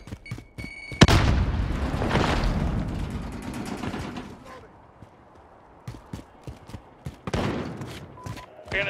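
A grenade bursts with a loud boom in Call of Duty Modern Warfare multiplayer, followed by rumbling aftermath and scattered sharp gunshots at mid distance, with radio-style voice callouts heard among the noise.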